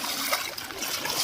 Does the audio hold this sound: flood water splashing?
yes